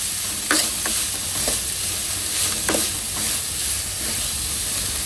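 Onions fry over high heat until golden brown for Bombay saagu, a steady loud sizzle and hiss with several scraping stirs of a spatula against the pan.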